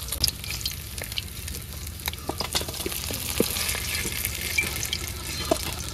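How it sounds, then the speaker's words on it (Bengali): Raw fish fries in hot oil in a pan in a village kitchen, giving a constant crackling sizzle with scattered sharper pops and spatters throughout, close and fairly loud. "এই তো কাঁচা মাছগুলো সব ভাজা হয়ে গেল,"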